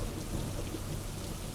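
Steady rain falls with a soft, constant hiss and patter, faint and even throughout, with no voices.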